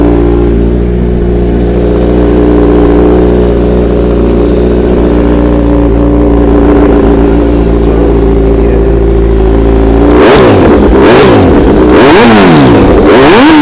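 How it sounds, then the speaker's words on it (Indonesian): A 2018 Kawasaki Z900 motorcycle engine idles with a steady, loud mechanical drone, then revs sharply several times near the end in rising and falling bursts. "Ok, mari kita cuba start tengok bunyi dia."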